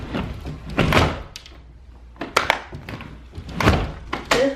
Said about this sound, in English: This door is a BITCH.